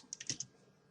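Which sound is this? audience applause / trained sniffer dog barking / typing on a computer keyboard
typing on a computer keyboard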